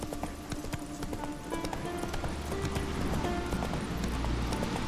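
Roach the horse runs in The Witcher 3 around Skellige, hooves clip-clopping in a quick, steady rhythm up close, set against busy in-game ambience with no distinct voices.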